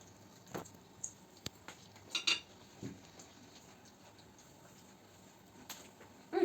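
Pumpkin, beetroot and brynza salad is stirred in a bowl with sparse, faint clinks and soft scrapes of a utensil against the dish, set apart by quiet pauses.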